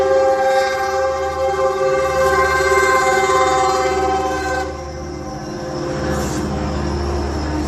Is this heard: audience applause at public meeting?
no